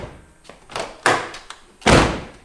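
Car doors on a Nissan S13 shut one after another, several solid thunks of varying force close by, the last the heaviest, with short gaps between them.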